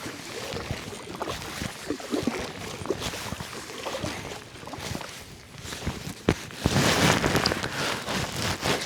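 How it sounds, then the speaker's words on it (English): Kayak paddling on the Suwannee River, irregular splashes and water dripping from the blades at close range, with a louder burst of splashing near the end. "Paddling away again."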